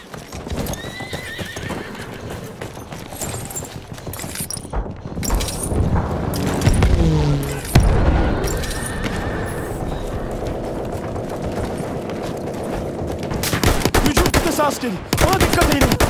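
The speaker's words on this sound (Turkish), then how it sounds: "Orada bir makinalı tüfek var." Machine gun fire in Battlefield 1 comes in rapid bursts, loud and close, inside a dense battle mix that also carries galloping horse hooves and whinnies.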